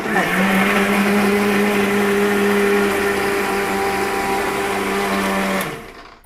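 A kitchen blender whirs loudly and steadily while mixing jaggery syrup, a strained motor whine held for about five seconds before cutting off abruptly and spinning down.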